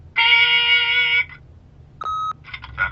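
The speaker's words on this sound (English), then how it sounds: "leave a message at the beep and we'll get back to you" A long electronic tone sounds for about a second, then after a pause a shorter steady beep, followed by a few brief chirpy tones: an answering machine beep in the video game The Wolf Among Us.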